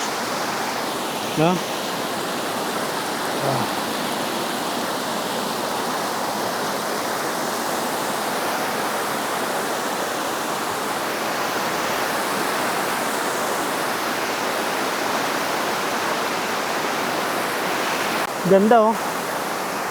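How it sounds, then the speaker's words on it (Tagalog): Madulas Falls in Monterico, Baybay, roars as a constant, loud rush of falling water that fills the whole scene, with a couple of brief voices speaking over it. "At meron pang Monterico. Yung tawagin nila ay Madulas Falls."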